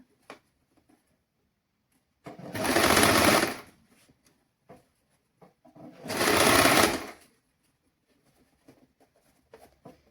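Sewing machine stitching elastic onto a girl's dress in two separate bursts of about two seconds each, loud and close, with quiet handling noises between the runs.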